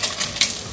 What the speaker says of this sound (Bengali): মাছ ভাজা হয়ে গেছে, নামিয়ে নেই, অর্ধেক দিয়েছিলাম, অর্ধেক নিয়ে বাকি অর্ধেকটা আবার দিয়ে দেবো কড়াইয়ে